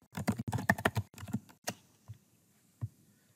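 Keys clatter on a computer keyboard in a quick burst of dense clicks, then slow to a few scattered, separate taps in a quiet room.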